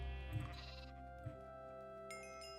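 Sheep in the video game Minecraft bleat twice, close and clear, over a quiet background of soft steady music.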